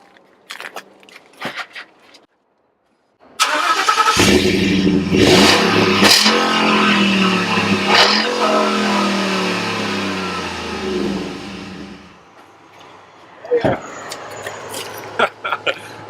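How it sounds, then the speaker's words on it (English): The big V8 of a 2014 Ford F-150 SVT Raptor pickup barks through dual tailpipes, revving loudly and holding a sustained roar for about nine seconds before dropping back to idle, with a few short blips near the end. "Two tailpipes because you've got that crazy big V8."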